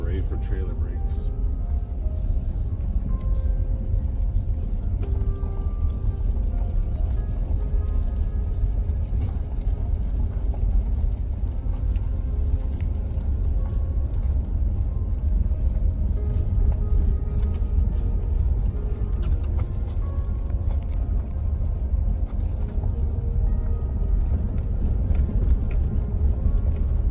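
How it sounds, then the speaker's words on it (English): A car towing a camper rumbles down a rough hill toward a Pennsylvania campground, a heavy, constant low road roar with small jolts and rattles throughout, with talking over it. "Just know it's a rough ride with the camper on the back."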